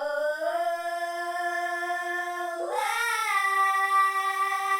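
A held vocal tone, pitch-shifted upward with pitch shifters in Ableton, sounds high and childlike, glides upward partway through, then settles on a higher sustained note, steady and clear throughout.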